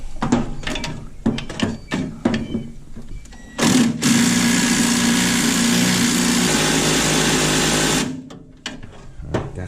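Power tool retightening the front anti-roll bar on a 1967 Mustang, starting with short clicking bursts and then a loud, continuous whirring rattle lasting about four seconds before stopping, close by.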